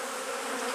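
Honey bees buzz continuously around a hive on a warm day, a dense steady drone of many wings close by with no voices.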